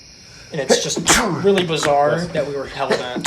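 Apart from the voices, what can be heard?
sneeze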